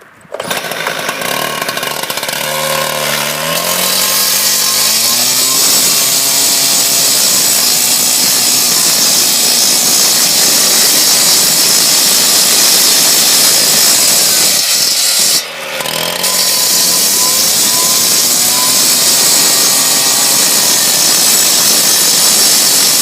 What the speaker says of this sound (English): What we're going to cut is a piece of 3-inch, it's a concrete cap, 3 inches thick.